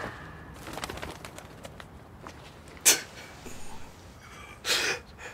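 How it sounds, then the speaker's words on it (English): Birds heard in a scene from the anime Chainsaw Man: brief faint cooing or chirping calls, with two sharper, louder bursts partway through and near the end against a soft background of rustle and hiss. "Those damn birds again, man."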